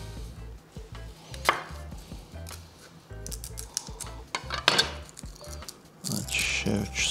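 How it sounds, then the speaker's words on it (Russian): Garlic cloves being peeled by hand in a home kitchen, heard as scattered close clicks, snaps and papery crackles, with a few louder knocks and some quiet talk in the background. "Очищаю чеснок."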